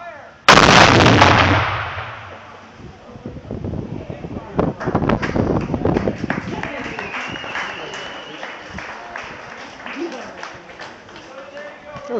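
Cannon firing a blank half charge at an outdoor demonstration: one sharp, very loud boom that rolls off slowly, followed by crowd noise, cheering and people talking.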